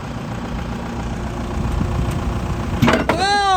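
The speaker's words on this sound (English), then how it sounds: "I'll bring the tractor in, you hook it up." A Marmon semi tractor truck with an in-frame rebuilt Detroit engine idles with a low, steady rumble, then a brief metallic clank and a rising whine break in near the end.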